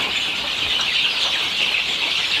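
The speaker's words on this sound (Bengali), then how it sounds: "দেশি মুরগির বাচ্চা আছে, আমরা ব্রুডিং করতেছি" Many native chicken chicks in a brooding room, a dense continuous chorus of high-pitched peeping and cheeping, loud and close, steady throughout with no talk.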